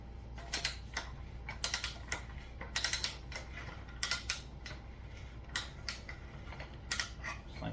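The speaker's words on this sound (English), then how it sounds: "we're going to go ahead and ream that. It's just a hand reamer." A hand reamer working a pipe end makes quick, uneven bursts of clicking and ratcheting scrapes, close and moderately loud with short pauses between strokes.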